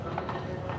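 Muffled, rhythmic hoofbeats from a show-jumping horse in an outdoor arena during a 1.50m grand prix jump-off, thudding quickly under an announcer's commentary.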